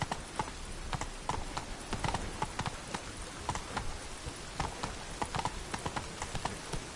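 Roach, the horse in The Witcher 3, galloping: a steady, rapid clip-clop of hooves repeating in quick rhythmic groups, moderately close and quiet, with no talk over it.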